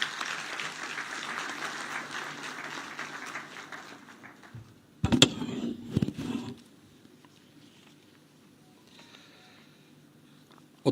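Audience applause fills a ceremony hall at the inauguration of the new Uttar Pradesh State Disaster Management Authority headquarters in Lucknow, a dense steady clapping that fades midway, followed by a few louder bumps and handling noises before near quiet.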